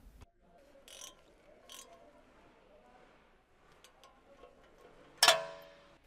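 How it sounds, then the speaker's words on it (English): A large ratchet with a 5 mm hex socket and adapter tightens the ABS sensor bolt on a 2013 Jeep Wrangler JK. It starts with a few faint mechanical clicks, then ends in one sharp, loud metallic snap that rings away. "Tighten the ABS sensor using the 5 mm hex socket with an adapter and a large ratchet"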